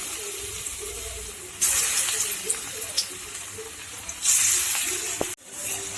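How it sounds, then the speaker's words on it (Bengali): Cabbage pakoras fry in hot white oil in a kadai, a steady broad sizzle that surges louder in two bursts, with a sharp clatter near the end. "বড়া ভেজে নেব।"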